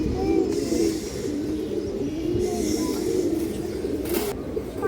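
Bagha pigeons and other fancy breeds coo softly in a loft, with repeated low tonal calls over a steady background hum and a few faint chirps.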